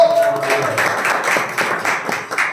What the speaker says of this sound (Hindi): ताली बजाकर हम प्रभु का धन्यवाद करें।